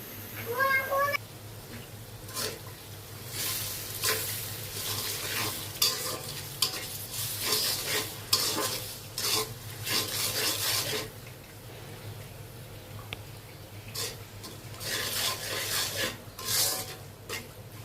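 Spices frying in hot oil for dal, stirred vigorously with a spoon scraping the pot in bursts of rasping strokes over a continuous sizzle, close by.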